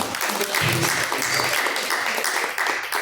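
A church congregation claps together in steady, dense applause, loud and close, with voices and shouts rising over the clapping throughout.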